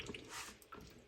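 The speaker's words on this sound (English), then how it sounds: "You hear that water draining good?" Water draining through a Munchkin Contender boiler during maintenance, a close, continuous gurgling rush with small dripping splashes, heard alone without talk.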